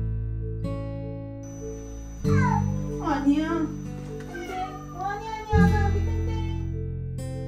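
A cat meows repeatedly during water rehabilitation therapy, giving several drawn-out, close, plaintive cries in two bursts, with a person speaking briefly over them.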